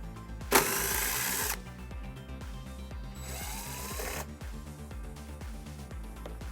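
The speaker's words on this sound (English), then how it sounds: "We're going to remove those using a 10mm socket." Two bursts of a power tool backing out screws with a 10mm socket on a 2019 Subaru Impreza hatchback, each whirring for about a second over steady background music.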